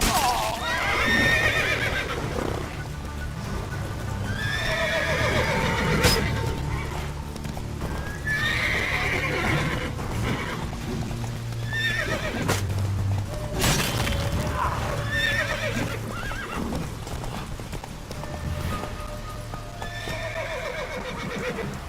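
A horse in The Witcher 3 video game gallops with a steady clip-clop of hooves, whinnies several times and snorts, against busy game ambience and a few sharp crashes.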